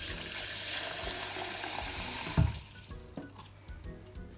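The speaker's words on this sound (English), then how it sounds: "So we're gonna add in the water." Water runs in a steady hissing stream for a couple of seconds as 1.2 cups are poured into a cup of rice for onigiri, then stops with a small knock, leaving faint drips and quiet clatter.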